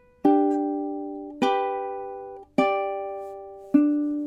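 Four clear finger-picked ukulele notes from a song ring out one at a time at an even, unhurried pace, each decaying gently before the next, close and alone.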